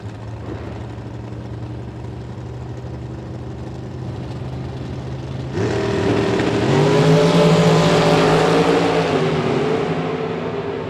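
Race-prepared dragster at a drag strip at a bracket race, a steady engine drone that suddenly surges into a loud, broad roar and holds high, close and continuous.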